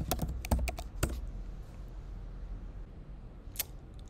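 Someone enters a password on a computer keyboard: a quick burst of several sharp key clicks, a pause, then one more isolated keystroke near the end, close and fairly quiet.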